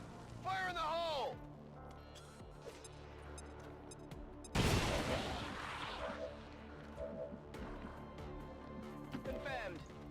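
A grenade explodes in XCOM 2 with a single sharp, loud blast midway and a decaying crash after it, set among game sound effects and bits of voice.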